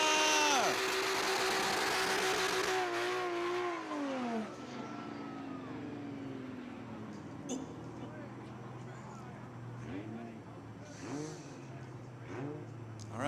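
A drift car on a practice lap at Kern County Raceway revs loudly at first, then the engine sound fades into the distance while an announcer talks over the track noise.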